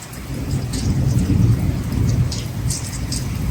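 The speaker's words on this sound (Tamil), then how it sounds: "எங்க ஏரியால செம்ம மழை அடிச்சு ஊத்துது." Heavy rain pours down steadily over a residential area, a dense, continuous broadband hiss with low rumbling underneath and scattered brighter drips and splashes, close and loud, with no voices.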